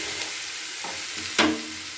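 Chopped cabbage is stirred into vegetables frying in a pan for pasta soup, a steady sizzle with soft scraping strokes and one sharper clatter of the spoon near the end, close up and without speech.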